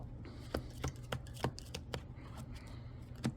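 Playing cards are riffle shuffled close up for a dealing shoe, with several quick fluttering bursts and soft taps between them.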